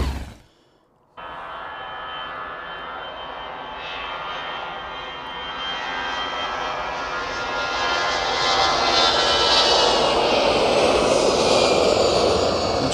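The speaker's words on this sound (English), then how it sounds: "Just have one last look at the 757 landing." Boeing 757 airliner landing at Manchester, its jet engines a loud, sustained roar that swells steadily after a brief quiet start and stays strong to the end, heard from a distance.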